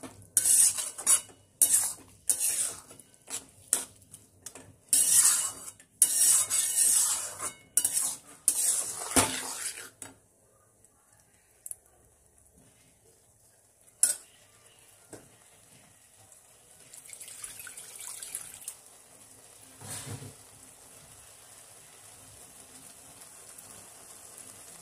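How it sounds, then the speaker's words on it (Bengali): A metal spoon stirs peas being sautéed in a pan for ghugni, clattering and scraping in quick bursts for about ten seconds, then only soft sizzling and occasional taps as the cooking continues quietly. "আগে একটু মটরটা কষিয়ে নিই"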